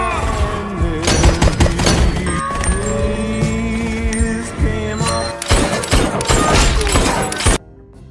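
Rapid bursts of gunfire in a shootout scene from the film Stuber, dense volleys of sharp cracks and thuds over a musical score, loud and chaotic, cutting off abruptly near the end.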